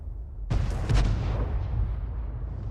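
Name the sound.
105 leFH18B2 artillery gun firing in a tank video game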